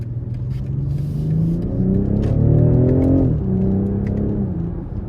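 A 2023 BMW X6 xDrive40i M Sport with its 3.0-litre turbocharged inline-six pulls hard in sport mode, engine note climbing steadily through the rev range then dropping briefly at a shift before rising again, loud and close with no talk.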